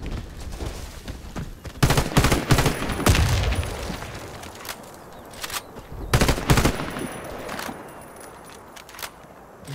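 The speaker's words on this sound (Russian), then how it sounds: "Он по мне стрелял, пули летели." Bursts of video game gunfire from an online Russian clan match, with two loud clusters of rapid shots near the start and middle and scattered single cracks between them, no talking.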